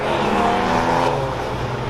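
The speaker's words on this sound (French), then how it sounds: "Ça part à fond là. Là ça part GT4 RS." A Porsche GT4 RS accelerates hard on a mountain road at Chamrousse, its engine a loud, steady roar that stays close and rises slightly through the clip, with no talking over it.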